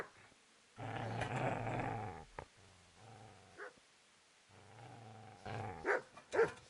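Dog in a video game growling low and then giving sharp barks, a long rumbling growl followed by short bursts, close and moderately loud with brief gaps between.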